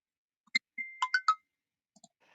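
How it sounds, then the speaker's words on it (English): A mobile phone sounds a quick run of short notification pings, a few bright chirps close together followed by a couple of fainter ones, in an otherwise silent room. "I need to put my phone on mute. I'm being pinged by millions of people."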